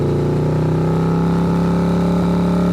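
Several motorcycles racing forward, a loud, steady, close engine drone with a sustained low hum that holds without a break throughout.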